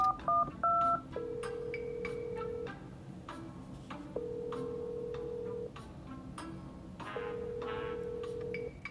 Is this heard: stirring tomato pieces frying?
no